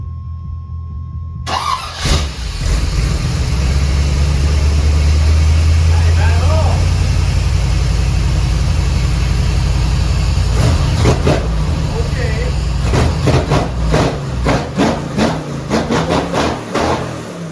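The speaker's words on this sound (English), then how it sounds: "This exhaust, while the construction of it is a little excessive, yes, it actually sounds pretty good" Truck with a 400ci small-block Chevy engine and an elaborate exhaust, idling with a deep low rumble, then blipped through several sharp revs in quick succession, loud and close.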